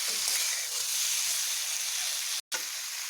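Pumpkin pieces frying in a pan with a steady, close hiss and sizzle, broken by a brief silent gap near the end.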